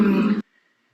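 A voice imitates a car engine with a brief, quiet buzzing hum, close and alone, lasting under half a second before cutting off into silence.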